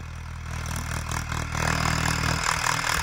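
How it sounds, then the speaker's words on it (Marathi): A farm tractor fitted with a baler drives up with a low, steady engine drone and light mechanical clatter, its rumble swelling slightly as it draws closer, with no talk over it. "हा आता बघा ट्रॅक्टर येले"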